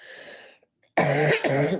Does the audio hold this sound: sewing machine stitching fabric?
no